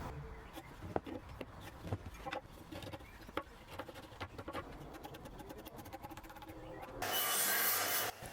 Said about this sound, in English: I'm just making some trial depth cuts to make sure that that tenon is going to be 50mm square.